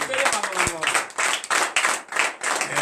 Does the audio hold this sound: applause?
yes